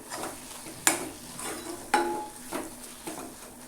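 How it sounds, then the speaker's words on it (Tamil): A spoon scrapes and clanks against a pan in several separate strokes while salt is stirred into an egg gravy, with a faint sizzle of food cooking underneath. "உப்பு சேர்த்து நல்லா கலந்து விட்டுருவோம்"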